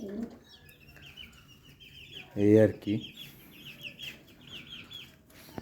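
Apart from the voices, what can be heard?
hens clucking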